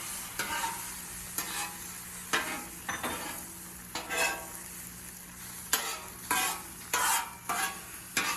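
Food cooking on a grill set to low temperature, a constant soft sizzle broken by repeated scraping and tapping bursts from a spatula every second or so, close and fairly loud, with no talking.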